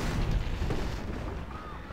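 Ranged units open fire in a Civilization V battle, producing a close, booming volley of rumbling shots that blurs into one dense burst and then tails away.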